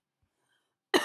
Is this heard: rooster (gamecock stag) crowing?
no